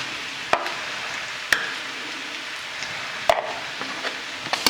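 Cooked rice is stirred into sautéed white radish and vegetables in a pan, a soft continuous scraping and sizzle with a few sharp spoon knocks against the pan, no voices.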